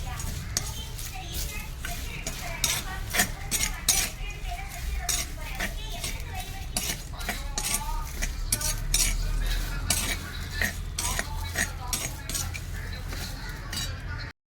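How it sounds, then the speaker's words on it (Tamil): Black pepper and cumin seeds being dry-roasted and stirred in a pan for Andhra dal powder, with rapid repeated scraping and clinking of a metal spoon over a faint sizzle, continuing steadily almost the whole time. "ஒரு ஸ்பூன் மிளகு ஒரு ஸ்பூன் சீரகத்தையும் போட்டுறோம் போட்டு நல்லா வதக்குவோம்"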